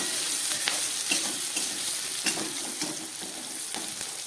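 Small fish sizzle and fry in hot oil with light spices, a steady close crackling hiss broken by occasional stirring scrapes, with no talking.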